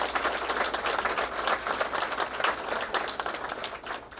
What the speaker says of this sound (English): So a big applause to you.